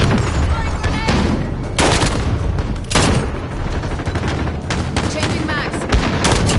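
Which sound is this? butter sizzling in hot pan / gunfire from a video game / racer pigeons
gunfire from a video game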